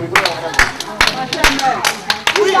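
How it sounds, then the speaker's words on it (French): A small gathering claps unevenly at a family get-together in Lodi, Italy, scattered sharp hand claps mixed with loud voices talking and calling out over them. "On doit applaudir ça."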